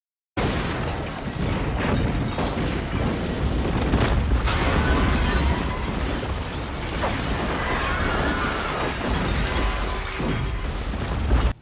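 The planet Krypton blowing apart in Superman The Movie: a dense, loud, sustained roar of explosions and crashing debris that runs almost without a break.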